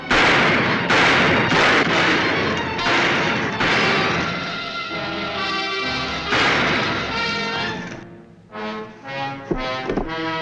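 Loud, rapid gunshots from a Western television episode ring out in repeated volleys for several seconds, then give way to a few scattered, more sporadic shots, with a musical backing underneath.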